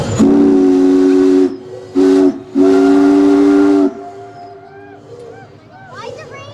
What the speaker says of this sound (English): We're going to say hello on our whistle.